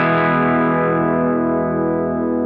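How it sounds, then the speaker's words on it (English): Single sustained distorted electric guitar chord ringing with effects, pitch wavering slightly as string pressure is relieved, loud and close, fading out at the end. "somebody will hit a chord and it'll be slightly out of tune, and then it'll slowly just go right in tune"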